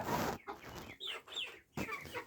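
A Marans rooster clucks in a few short, rough calls close by, separated by brief pauses, with no other sounds around it.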